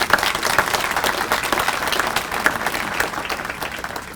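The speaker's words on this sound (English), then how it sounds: "Can we have a round of applause for him?" A crowd at a college restaurant ribbon-cutting ceremony gives a college president a round of applause, a dense, sustained clapping that is fairly loud and steady before tapering slightly toward the end.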